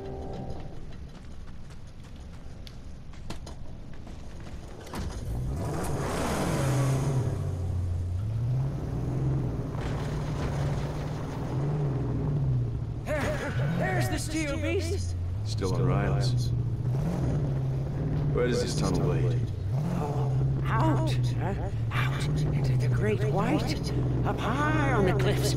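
A car in the game Mad Max drives with a deep, steady engine rumble that rises as it revs and shifts pitch, continuous and fairly loud, with someone talking over it and game sounds mixed in.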